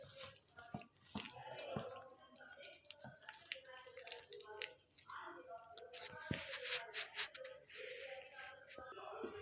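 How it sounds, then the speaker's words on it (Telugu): Bonda batter being mixed by hand in a bowl, wet squelching and slapping in irregular bursts, close and fairly quiet, with soft speech. "పిండి మొత్తం ఇలా కలిపేసామండి."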